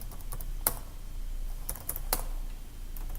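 Someone types a password on a computer keyboard at a Linux terminal, producing a handful of sparse, crisp keystrokes close by over a steady low hum, with no speech.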